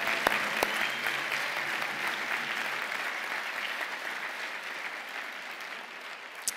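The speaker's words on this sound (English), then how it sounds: "join me in a round of applause to the bid committee and the organizing committee" A crowd at the opening ceremony of the 2019 World Para Nordic Skiing Championships in Prince George applauds the bid and organizing committees, a dense, sustained clapping with a few crisp nearby claps early on, fading gradually toward the end.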